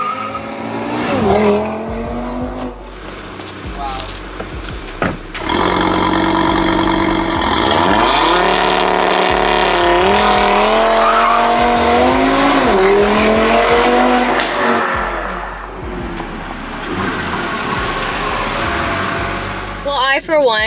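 An Audi TT RS with a stage 2 tune revs hard and accelerates, its loud engine rising and falling through gear changes with brief lifts between pulls. Someone talks over parts of it.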